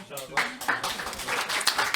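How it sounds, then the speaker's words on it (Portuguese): Audience applause at a Portuguese stand-up comedy night, a dense patter of many hands clapping at steady volume throughout, with voices mixed in. "Uma salva de palmas para"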